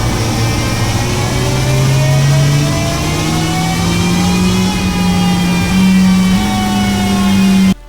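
Suzuki Hayabusa Gen 3 motorcycle in stock configuration revving on a dyno, its engine pitch climbing steadily in a long loud pull, close and continuous, ending abruptly.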